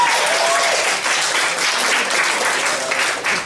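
A comedy club crowd breaks into warm applause for an audience volunteer, a steady wash of clapping lasting several seconds with slight swells.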